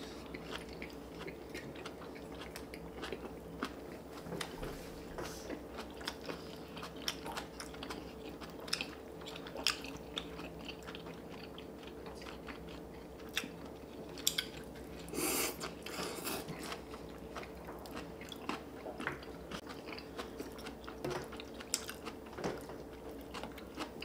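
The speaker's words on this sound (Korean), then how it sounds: "이거 양배추 좀 먹어봐." Close, quiet chewing and crunching of cabbage from cheese dakgalbi, a spicy grilled chicken dish, continues steadily with small bites and crunches over a low room hum, with no talking.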